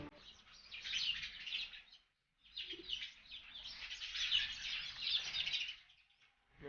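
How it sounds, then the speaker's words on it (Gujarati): Sparrows chirp in a busy, twittering chorus nearby in the morning, fairly soft, with a brief pause partway through. "એ જો ચકલા સવારમાં આવી ગયા ચણવા"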